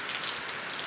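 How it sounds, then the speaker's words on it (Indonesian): Heavy rain pours down steadily, a dense, even hiss of drops striking surfaces close by, with no voices over it. "lebat sekali hujannya"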